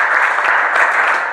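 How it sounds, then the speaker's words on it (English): An audience at a sales and rapport seminar breaks into a dense, steady round of applause that carries evenly through the short stretch with no voices over it. "give yourself a round of applause"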